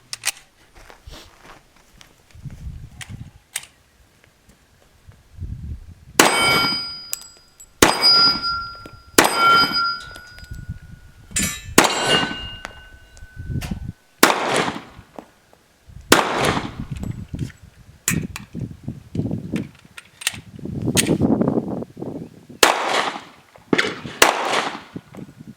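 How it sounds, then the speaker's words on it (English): A Glock 36 pistol fires Federal ammunition at a shooting range, sharp loud shots coming in separate bursts with pauses between strings, interspersed with metallic clinks and handling noise. "we just shot that Federal ammo"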